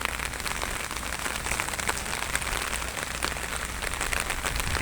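Steady, dense rain pours down at the Budge Budge ferry ghat on the Ganges, a loud continuous hiss with scattered close drop patters and no voices.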